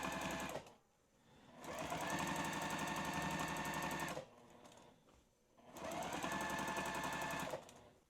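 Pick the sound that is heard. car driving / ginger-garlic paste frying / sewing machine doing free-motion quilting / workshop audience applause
sewing machine doing free-motion quilting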